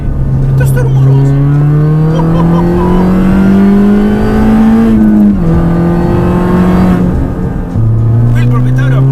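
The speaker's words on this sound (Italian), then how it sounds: "uno scarico completo con catalizzatore a 200 celle e anche collettori nuovi, i quali rendono questo piccolo 1600 piuttosto rumoroso" A modified Mini Cooper S R53 with a 1.6-litre engine, full exhaust, 200-cell catalyst and new headers revs loudly and close, its pitch climbing, dropping on a shift, then rising again, with a raspy, noisy exhaust note.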